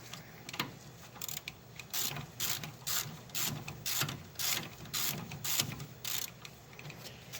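A hand ratchet loosens the brake caliper bolts on a 1990s Chevy GMC truck's front axle, a steady run of close, rhythmic clicking strokes with short pauses between them.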